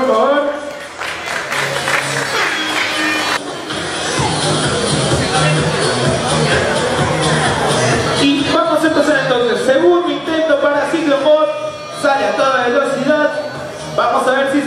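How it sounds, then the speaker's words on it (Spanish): An audience claps and cheers at a timed robot line-follower contest, a dense wash of applause and crowd babble throughout, with an announcer talking over it in Spanish. "El aplauso para Spirit, por favor."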